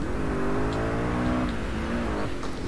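Small car accelerating in the racing game Driver San Francisco, a steady loud engine drone with rising pitch sweeps, playing alone without voices.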